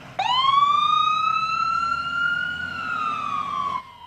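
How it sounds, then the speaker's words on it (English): A wailing ambulance siren sounds alone for about four seconds, steady and fairly loud, its pitch slowly rising then falling before it cuts off abruptly. "When you see these flashing lights and hear this sound,"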